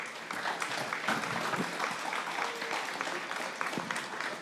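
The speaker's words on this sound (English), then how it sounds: "You may give a warm applause also to them to warm them up a little bit." Audience applause at a data governance conference, a steady patter of clapping hands from a seated crowd, moderately quiet and continuous throughout, with no voices over it.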